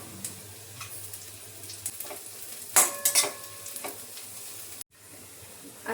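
Onion fries in a pan in a home kitchen with a soft steady sizzle, while a few sharp clinks and scrapes of a utensil rise briefly above it near the middle.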